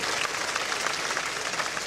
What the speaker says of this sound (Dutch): We zien applaus voor Hiske Gala.